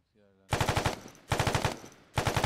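Machine gun fire in the ArmA 3 video game: three loud bursts of rapid automatic shots, each about half a second long and separated by short gaps, with a faint voice heard just before the first burst.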